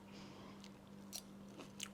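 Close, quiet crunchy bites and chewing of a fried tindora (ivy gourd) stir-fry, a few crisp crunches spread over a steady low hum, with no talk.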